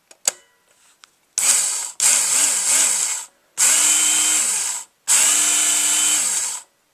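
A Work Sharp knife sharpener, a small belt-grinding tool, runs in four loud bursts of steady high whine, each switched on for a second or more with brief silent gaps, after a couple of opening clicks.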